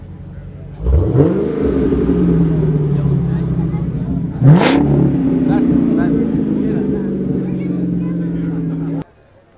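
A sports car engine revs hard twice at a rally car gathering, rising sharply then settling into a steady loud drone, with crowd chatter faintly underneath.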